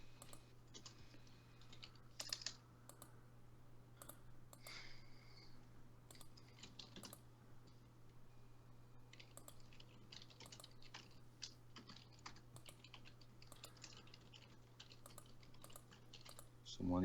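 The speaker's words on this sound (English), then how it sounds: "Someone is typing frantically." Rapid clicks from a mechanical keyboard typed frantically fill the background, quiet and steady over a low hum, with irregular clusters of keystrokes.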